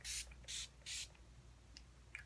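Mary Kay Makeup Finishing Spray misted onto a made-up face in three quick, close bursts of even hiss, each about a fifth of a second long, followed by quiet with a couple of faint clicks.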